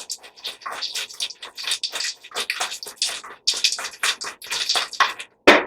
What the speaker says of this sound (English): You're just going to shake it up till, it gets cold.